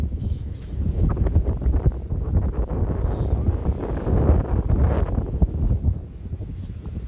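A sailboat running before the wind at sea between Tahiti and Fiji, with continuous loud wind buffeting the microphone and a rushing roar of water and air throughout.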